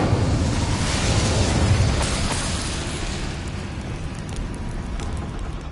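Incendio fire spell cast in Hogwarts Legacy, a steady loud roaring whoosh of flame and crackle filling the whole stretch, fading slightly toward the end with no talking.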